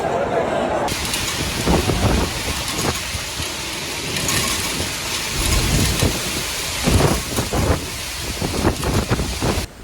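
Heavy rain pours down steadily during a thunderstorm outside a concert stadium in Edmonton, with low rumbling surges like thunder rolling through, loud and continuous, with some engine-like background noise.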